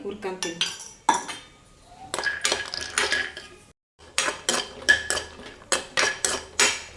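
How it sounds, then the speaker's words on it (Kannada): Cashews being roasted in ghee in a pan, a rhythmic series of metallic scrapes and clinks from a spoon stirring against the pan, close and fairly loud with a brief pause midway. "ಇದನ್ನೆಲ್ಲ ತುಪ್ಪದಲ್ಲಿ ಹುರ್ಕೊತೀನಿ ಈಗ ಗೋಡಂಬಿ ಹಾಕ್ತೀನಿ"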